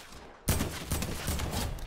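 SMG gunfire in Fortnite starts abruptly as a dense, rapid burst of shots, continuing as steady loud rattling for over a second.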